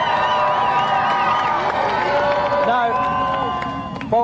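A loud TV game-show studio audience cheers and shouts continuously with applause underneath, a dense roar of voices filling the space.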